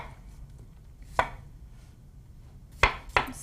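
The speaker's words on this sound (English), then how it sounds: "And then just chop it" A knife chops watermelon into small pieces on a cutting board, three sharp separate knocks with quiet pauses between them and no talking.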